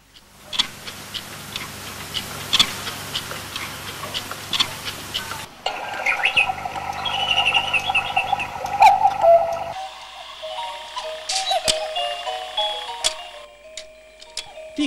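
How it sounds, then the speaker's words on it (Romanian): Swiss watches tick in steady rhythmic clicks, close and crisp, across several changing scenes with faint background tones and no talk. "Tic-tacul e sunetul care aduce în fiecare an Elveției un venit de 4 miliarde de euro."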